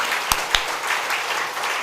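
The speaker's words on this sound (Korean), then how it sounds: "우리 가운데 함께 하시는 하나님께 영광의 박수 올려드리겠습니다." A congregation at a Korean church worship service gives applause of glory to God, a loud, steady wash of many hands with a couple of sharp, close claps standing out early.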